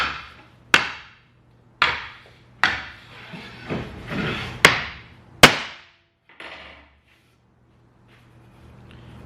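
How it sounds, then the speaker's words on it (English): A hammer strikes a block of dark exotic wenge wood in a density test, giving about seven sharp, hard knocks at uneven intervals, each ringing briefly before fading, close and alone. "I'm gonna give it the hammer test."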